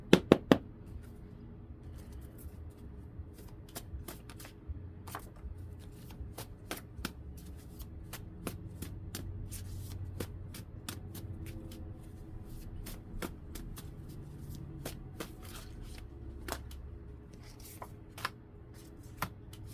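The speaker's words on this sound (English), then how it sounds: "Let me give these a good shuffle, and then I'll lean up and do the other shuffle" A deck of cards is shuffled by hand close up, with soft riffling and sharp snapping flicks repeating irregularly across a quiet room.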